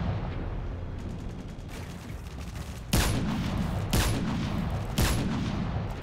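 Loud gunfire in the video game Modern Warfare 3: three heavy, booming shots about a second apart ring out over a constant rumble of background noise, with no one talking.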